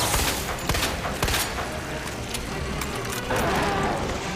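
Gunfire from Resident Evil 2 (2019) crackles in a rapid burst of close, sharp shots over a dense, noisy game soundscape, followed by a louder rumble near the end.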